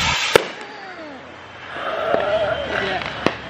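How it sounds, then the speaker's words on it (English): Fireworks pop close by outdoors, a sharp crack early on and another near the end, with whistling, crackling streaks between them while people talk in the background. "They're like popping these fireworks and they're not far"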